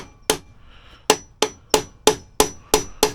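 A hammer strikes sharply about seven times in an irregular rhythm, separating a connecting rod from a small block Chevy engine, each blow loud and ringing with a quick decay, with no voices.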